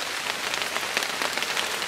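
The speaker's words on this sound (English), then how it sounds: "So right now it's kind of drizzly." A light drizzle patters steadily on surfaces outdoors in the woods, an even, soft hiss with scattered drop taps and no voices.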